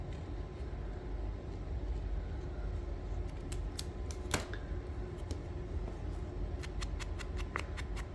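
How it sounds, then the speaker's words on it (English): Scissors snipping the leaves off a paper rose cut for a scrapbook layout, a few sharp, quiet snips scattered over a steady low background hum, with no talking. "So I'm just gonna go in and cut off the leaves."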